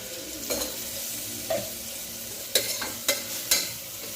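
A spoon stirs egg biryani masala with yogurt in a pot, giving a soft sizzle under several distinct scraping clinks against the metal, close and fairly quiet.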